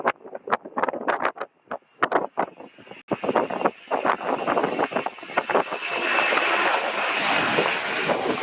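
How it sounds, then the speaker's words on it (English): A UPS Airlines cargo jet bound for Portland, Oregon takes off from Louisville airport, a rising roar that builds into a steady loud rumble, with sharp wind-buffeting thumps on the microphone early on. "This is UPS Airlines flight 5978 going to Portland, Oregon."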